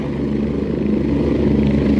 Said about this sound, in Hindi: देखिए जमीन से हेलीकॉप्टर ऊपर उड़ चुका है और यू टर्न होता हुआ नजर आ रहा है हेलीकॉप्टर।